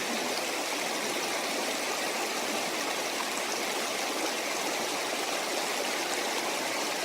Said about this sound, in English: This is the water flowing out of the First Geraldine Lake.